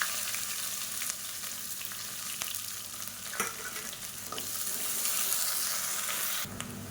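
Onion and whole spices fry in hot oil for vegetable pulao, a loud steady sizzle close up with occasional stirring scrapes against the pan, no speech.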